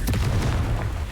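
A Confringo spell explodes in the Hogwarts Legacy video game, a single heavy booming blast with a deep rumbling tail that fills the whole moment.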